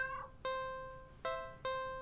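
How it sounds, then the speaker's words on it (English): A cat in a video game gives three short, tonal meow-like calls in sequence, each sharp at onset and fading away, quiet and clean with no talk over them. "Feed the cat. The cat must be hungry, right?"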